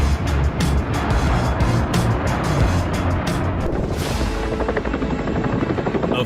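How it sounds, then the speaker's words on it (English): Firefighting helicopter roaring loudly and steadily overhead, dense rotor and engine noise with rhythmic blade chop, growing slightly more distant toward the end. "A firefighting helicopter is human innovation at its peak."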